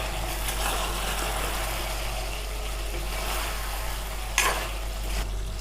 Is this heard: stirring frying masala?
yes